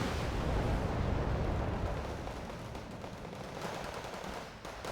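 Bombs from air bomb runs exploding in Wargame: Red Dragon, a dense continuous rumble of blasts that stays loud and heavy, then eases off slightly toward the end.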